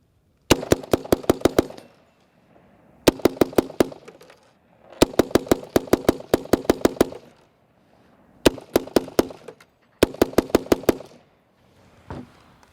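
A belt-fed rifle fires in semi-automatic mode in loud, close bursts of rapid sharp shots, six or so groups separated by short pauses, with no talk.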